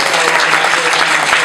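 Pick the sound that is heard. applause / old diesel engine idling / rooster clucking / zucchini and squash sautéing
applause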